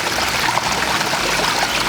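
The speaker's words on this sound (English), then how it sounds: "Not one, but two water features and a pond with some fish in it." A garden water feature trickles into a fish pond that is at least fifteen years old, giving a close, steady splashing and bubbling wash with no talking over it.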